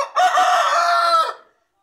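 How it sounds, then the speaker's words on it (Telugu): A rooster crows once, a loud, close, drawn-out cock-a-doodle-doo lasting over a second before cutting off into silence. "నేను వీడియో తీసేటప్పుడే కరెక్ట్గా ఇదిగో కోడి కూత వేసిద్ది."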